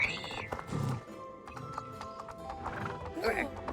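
In the video game Star Stable, a horse neighs and whinnies while hooves clip-clop nearby, with a player's voice talking over parts of it.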